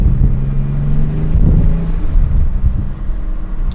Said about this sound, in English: Oh, now we get some turbo spool.